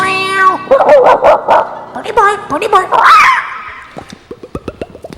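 A person's voice imitates a dog, yipping, whimpering and barking in quick bursts, loud and close, ending in a string of short sharp yaps.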